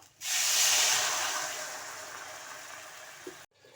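Water hits a hot cooking pan with a loud, sudden steaming hiss that peaks at once and then slowly fades over about three seconds before stopping abruptly.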